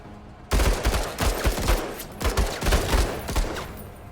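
Gunfire erupts in a tactical shooter video game after a brief quiet moment, with loud bursts of rifle shots in rapid, uneven volleys that keep up for several seconds.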